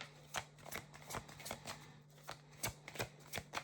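Oracle cards are shuffled in quick, papery riffling bursts, a dozen or so sharp flutters in uneven rhythm, close but quiet over a faint steady hum.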